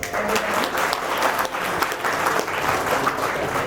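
Audience applause at an interior designers' awards and inauguration ceremony as dignitaries are called up, a dense, steady wash of many hands clapping that holds at full strength throughout without pause.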